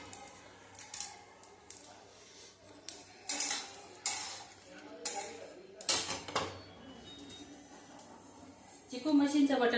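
Roasted fennel seeds are scraped out of a metal pan, with a series of sharp metallic scrapes, clinks and taps of a spoon against the pan, close and intermittent.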